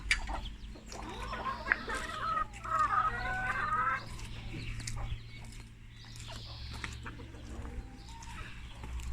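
Hens and chicks cluck and chatter steadily nearby, with higher cheeping mixed in, over a constant low hum.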